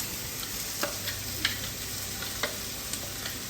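Onion sizzles in olive oil in a pan for pasta alla Norcina, a close, steady crackling fry with a few soft stirring knocks.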